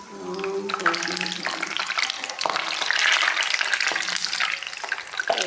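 Potato kofta curry stirred in a pan, a wet sizzling and scraping that swells and fades as the spoon moves through the gravy, close and moderately loud with no talking.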